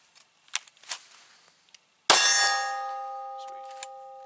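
Faint scattered knocks come first, then a single sharp metallic clang rings out loud as a Glock 23 round strikes a steel target, its tone decaying slowly over a couple of seconds.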